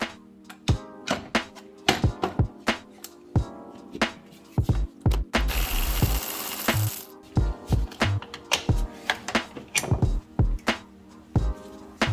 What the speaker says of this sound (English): you can stick a socket right on there, like a straight shot. It's a 13 millimeter, so we're gonna take that off next.